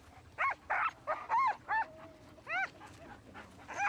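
Inuit sled dogs bark, yelp and howl in a series of sharp, rising calls, several animals overlapping at moderate distance with brief pauses between bursts.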